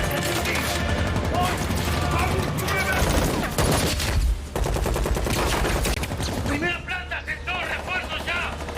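Heavy weapons gunfire in a film heist-turned-battle scene: loud, dense bursts of shots and booms layered over music and effects, continuing almost without pause.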